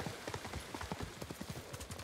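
Horse hooves clip-clop in a quick, steady rhythm as a horse is ridden in the video game Ghost of Tsushima, fairly close and moderately quiet, with no voice over them.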